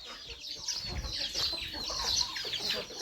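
Chickens clucking and squawking in agitated bursts as they are chased and caught, close by with scuffling and rustling underneath.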